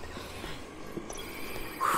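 A telephone rings in the Dead Rising video game, a brief electronic ring at the very end that comes through over faint game ambience, with no talk.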